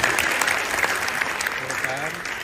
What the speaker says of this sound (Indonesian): Tepuk tangan untuk bapak-bapak.